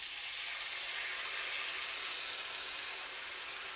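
Chicken sizzles in a hot pan for chicken marsala, a loud, dense, steady hiss that holds unbroken throughout, with no voices.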